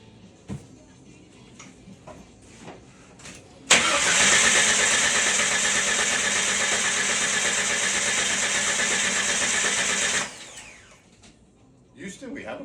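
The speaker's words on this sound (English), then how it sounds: "Let's give her a crank." A Jeep Wrangler with a no-start fault cranks on ether: a loud, steady starter whir runs for about six seconds and then cuts off, with brief clatter and faint voices before and after.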